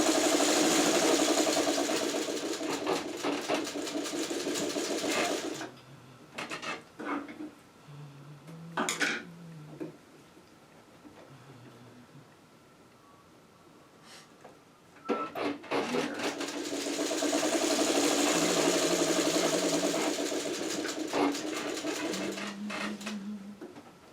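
A sewing machine runs a seam in a quilting project, with two long, loud continuous bursts of steady mechanical whirring separated by a quieter stretch of snipping and handling noises.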